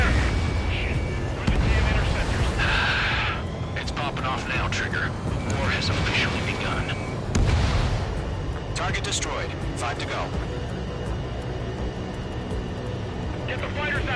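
Anti-aircraft fire in the flight combat game Ace Combat, with loud bursts and booming blasts over the roar of jet aircraft as voices talk on the radio.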